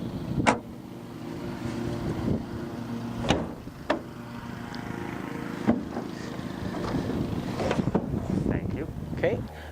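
An Iltis military vehicle pulls away outdoors with a steady engine drone and wind buffeting the microphone, broken by a few sharp thumps and clicks.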